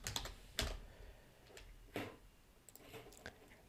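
Fast typing on a computer keyboard, with bursts of sharp clacks separated by short pauses, close and fairly quiet, with no voice.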